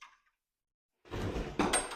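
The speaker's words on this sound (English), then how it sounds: "Pocket door. I love me a good pocket door." A pocket door in a custom ranch home rolls along its track, a sustained rumbling slide lasting about a second, ending with a brighter scrape or knock near the close.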